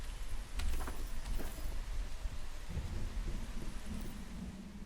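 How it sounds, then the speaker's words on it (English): Rain pours steadily in Once Human as a dense wash of hissing patter, with low rumbling thunder-like swells, near and continuous with no talking. "It's freaking raining."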